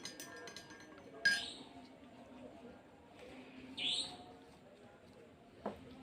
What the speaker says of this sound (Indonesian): Kita aduk PK sampai homogen